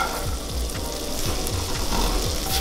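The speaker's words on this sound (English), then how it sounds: "I'm gonna toss this in the same pan that I did the lamb in, add in a little more butter and then brown it" Apples brown in butter in a pan still holding lamb drippings, sizzling loudly up close with a steady hiss and regular soft pulses as the pieces are tossed.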